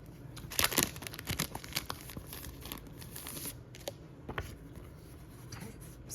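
Sticker sheets from a stationery haul being handled close up, giving a run of crisp crinkling, rustling and tearing-like paper sounds, loudest near the start and easing off, with no talking.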